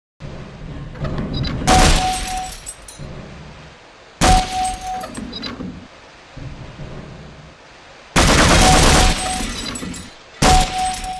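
Gunfire in Half-Life VR, heard as several loud, sharp bursts with short decaying tails separated by quieter gaps, sounding like heavy shots or blasts in quick sequence.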